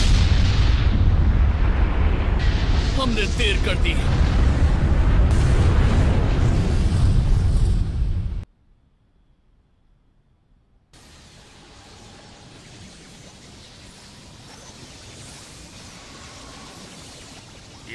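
A huge anime explosion from Naruto Shippuden roars loud and sustained for several seconds, then cuts to silence before quieter rumbling aftermath with a brief line of dialogue.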